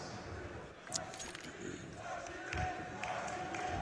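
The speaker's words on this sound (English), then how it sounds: "The ITB crowd is trying to get them fired back up again." An esports arena crowd cheers and chants for Into the Breach at a Counter-Strike Paris Major quarterfinal, a loud, distant roar that swells and surges under commentator voices.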